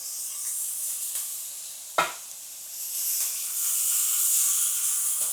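Cajun butter sizzles and steams on a hot grill beside salmon and shrimp, a continuous bright hiss with one sharp spit near the middle, and no talking.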